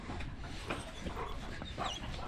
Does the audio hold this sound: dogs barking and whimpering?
yes